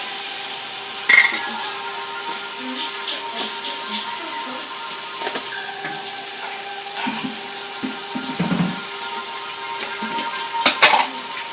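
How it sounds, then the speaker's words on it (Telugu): Onions and tomatoes sizzle and fry in a pan, a steady hiss with occasional scrapes and clinks of stirring, fairly loud and close throughout with no talking. "ఉల్లిపాయలు బాగా మగ్గిపోయినాయి కదా, ఇప్పుడు టమాటాలు వేసుకుందాం"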